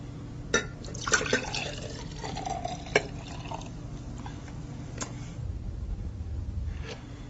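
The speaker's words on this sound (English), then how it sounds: "Now we're going to pour this juice into this glass." Juice is poured into a glass, with a splashing, trickling liquid sound broken by a few sharp clinks and drips, close and fairly quiet.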